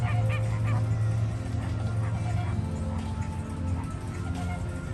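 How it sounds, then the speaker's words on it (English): Flamingos at Busch Gardens honk in a dense, continuous chorus that fills the whole stretch, loud and close, with faint crowd murmur beneath. "What you're hearing is that's the flamingos."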